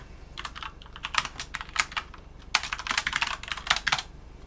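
Rapid clicking of keys on a computer keyboard while writing code, in irregular bursts with short pauses, close and moderately quiet.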